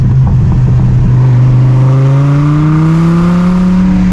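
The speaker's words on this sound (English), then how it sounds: "Get the full effect of the exhaust going that way, echoing, right?" A 2017 Dodge Viper GTS-R ACR's exhaust revs loud and close, echoing, the deep throaty engine note climbing steadily in pitch.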